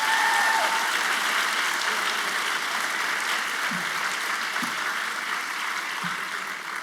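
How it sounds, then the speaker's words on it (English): Audience applause at a first-generation student celebration, a dense, loud sustained round of clapping that tapers slightly toward the end. "Can we give Elsa one more round of applause,"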